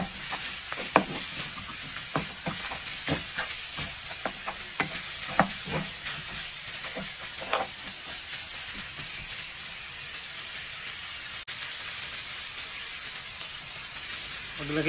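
Pork ribs with pepper are stirred in a hot pan, with a continuous sizzle. A spatula scrapes and clacks against the pan in repeated irregular strokes, close and moderately loud.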